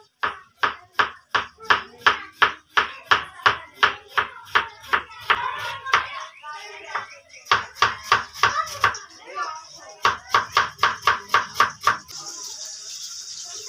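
A knife chops capsicum on a board in rapid, steady strokes, dozens of sharp close knocks in quick runs with short pauses between, and a voice talks briefly in between.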